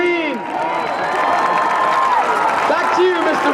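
A crowd applauds and cheers for the homecoming king and queen at a high school football game, sustained clapping with scattered whoops and shouts over a stadium announcer's voice.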